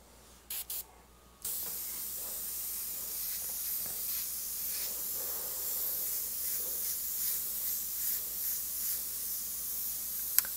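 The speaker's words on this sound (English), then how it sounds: "I would encourage you to spray in this direction, pointing the overspray and the paint flow away from this edge" An airbrush sprays paint in light layers onto a rounded surface, giving a continuous soft hiss after a few short test bursts at the start.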